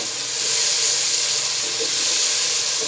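Crushed tomatoes poured into a hot pan of golden-fried turnips give a steady, broad hiss and sizzle that swells slightly and holds for about three seconds, close and loud, with no talking.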